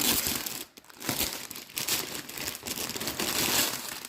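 A parcel holding a 9CT Mona Lisa cross-stitch kit being opened, with continuous close crinkling and crumpling of packaging and brief tearing, loud and uneven, no speech.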